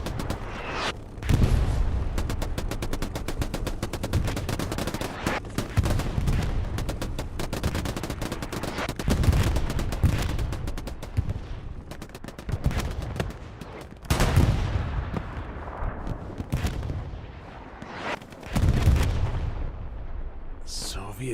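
Tanks firing high-explosive shells in a Hell Let Loose battle on the Smolensk map, with repeated heavy booms and explosions over dense, continuous machine-gun and rifle fire, loud and close, and a voice talking over parts of it.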